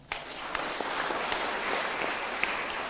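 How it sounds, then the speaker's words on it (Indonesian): Applause at a stational Mass in a church, a steady broadband patter of many hands filling the space for about three seconds with no voices over it. "Tepuk tangan"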